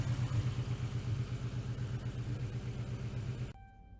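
A red Ford Mustang with a lumpy cam idle rumbles close by as it pulls out, a throbbing low engine that cuts off abruptly near the end.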